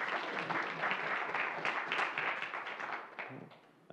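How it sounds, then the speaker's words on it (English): Audience at a scientific conference breaks into applause: dense, steady clapping from a crowd that holds for a few seconds, then thins and fades toward the end. "So, time for the applause."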